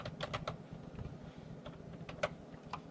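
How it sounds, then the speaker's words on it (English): Quiet typing on a computer keyboard while a question is entered into a form, with scattered soft key clicks in irregular short runs and a few sharper taps, with no voices. "we are going to type in the question, what is your name?"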